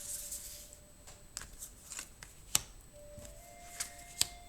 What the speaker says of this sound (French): Alors, je vais prendre 3 cartes.